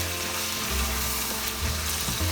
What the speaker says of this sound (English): You have to saute it 10 more minutes on low to medium heat.